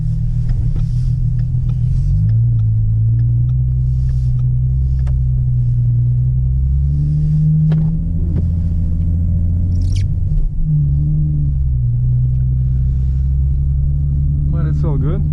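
A rear-wheel-drive car in deep snow on a Canadian winter road, its engine droning low and loud under shifting pitch as the wheels spin, with a steady rumble throughout and faint higher whines near the end.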